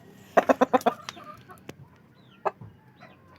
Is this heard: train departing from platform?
no